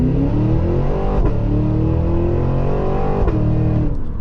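A 2023 Cadillac Escalade V launching hard from 0 to 60 in V mode, its engine roaring loud and steady throughout with rising harmonics and two brief shift-like breaks, no talk over it.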